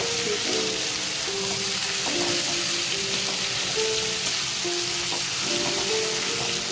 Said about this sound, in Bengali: এবার ওর মধ্যে কড়াইটা দিয়ে ভালো করে ভেজে